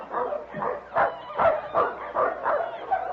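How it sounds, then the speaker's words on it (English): A sled dog team barks and yips in an old-time radio drama, a rapid string of about seven excited barks at moderate distance with no talking over them. "Do you hear that? A dog team."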